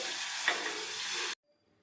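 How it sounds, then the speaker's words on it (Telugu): Ajwain leaf rasam with tamarind juice bubbles in a pot as a dense, continuous hiss that cuts off abruptly partway through, leaving near silence. "వామాకు రసం ఈ విధంగా మరుగుతుందండి."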